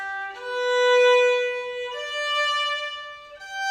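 A violin plays a few sustained, ringing notes one after another in a tonalization exercise, smooth and clear, with no talking.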